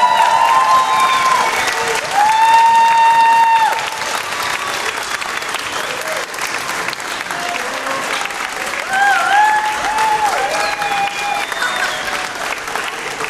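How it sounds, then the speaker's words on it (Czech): A concert audience at an annual orchestra performance applauds, sustained clapping from a large crowd that swells and eases across the stretch, with sustained tones ringing faintly above it. "Velký potlesk, prosím."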